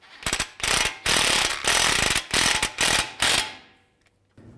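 A ratchet tightens a bolt and nut through the front steering knuckle of a 2011–2015 Chevy Cruze during a CV axle job, giving close, loud bursts of rapid clicking in several strokes before stopping.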